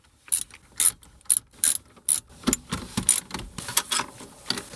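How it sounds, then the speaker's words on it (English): Ratchet wrench loosening 10mm bolts on the side of a car radio, a close series of short clicking bursts in a steady rhythm with no talking. "The next thing to do is to remove these two 10mm bolts on the side of the radio, on the right side here."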